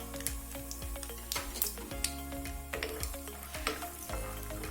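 Peanuts frying in hot oil with mustard seeds over a low flame, a steady crackling sizzle peppered with sharp pops and spoon scrapes against the pan, close by and without voices.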